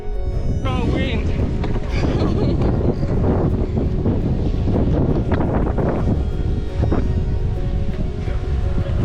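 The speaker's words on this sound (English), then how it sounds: "Strong wind!" Strong wind buffeting the microphone in the hills of Munduk, Bali, a loud continuous rumbling roar throughout, with faint voices and other sounds partly buried beneath it.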